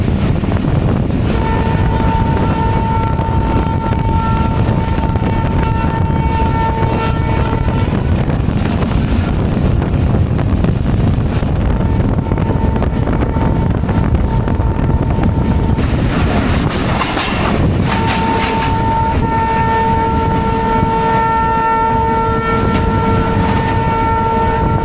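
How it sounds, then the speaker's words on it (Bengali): Kanchan Commuter train running along the tracks on a winter morning, a loud, steady rumble of wheels and carriages with a sustained horn sounding twice, heard from on board. "আর এই রোদের মাঝেই আমাদের ট্রেন কিন্তু হুশ হুশ করে এগিয়ে চলছে"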